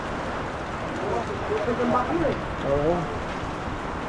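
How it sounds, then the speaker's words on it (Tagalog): Heavy rain falls in a steady, dense hiss with no break, while people talk quietly underneath. "Oh, grabe yung ulan natin ngayon."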